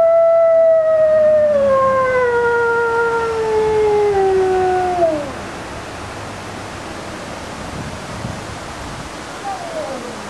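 A captive wolf pack at a zoo exhibit howls together in long, sliding, layered calls that fall in pitch over several seconds, loud and close over a steady background hiss, then fades into faint scattered howls.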